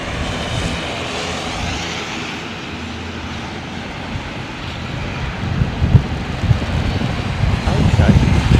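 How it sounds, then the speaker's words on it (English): A Boeing 787 Dreamliner rejects its takeoff on a distant runway at rainy London Heathrow, a broad, steady engine roar that swells toward the end, with wind and people talking over it. "RTO from a Dreamliner on the other runway."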